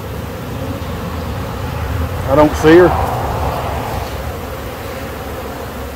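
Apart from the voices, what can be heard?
honeybee swarm buzzing in a bucket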